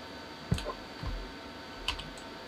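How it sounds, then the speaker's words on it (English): Keyboard arrow keys tapped while resizing a brush in Photoshop, a few soft, close clicks spaced irregularly over a steady low background hiss. "Just using the arrow keys to resize the brush as well."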